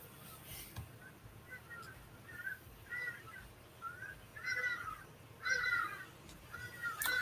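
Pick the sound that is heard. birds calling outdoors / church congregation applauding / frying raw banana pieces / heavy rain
birds calling outdoors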